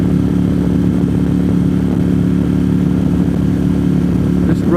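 A vehicle with a CVT transmission drones steadily along US129, a loud, constant engine note with road and wind rumble and no change in pitch.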